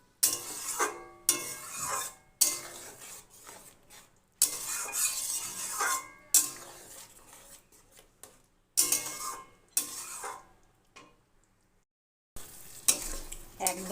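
Ridge gourd curry stirred in a pan with a spoon: repeated bursts of scraping and clinking against metal over a soft sizzle, close and moderately loud, broken by short pauses.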